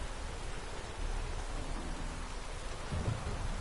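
Steady, close rain hiss fills a stormy scene in the video game The Witcher 3, with a low thunder rumble rolling in near the end.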